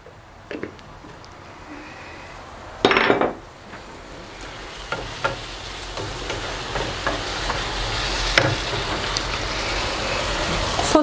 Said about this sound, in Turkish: Şu anda soteleme işlemimiz devam ediyor.